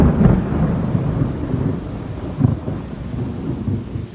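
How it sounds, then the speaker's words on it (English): Deep rolling thunder rumbles in low, distant waves echoing through the hills of Hot Springs, Arkansas, over a steady background hiss, with a louder boom swelling midway. "it was thundering and lightning like crazy"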